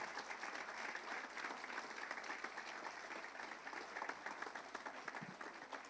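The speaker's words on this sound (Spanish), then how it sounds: "Dale un aplauso al Señor." A church congregation claps in praise at a consecration service, continuous dense applause filling the room at a steady level for several seconds.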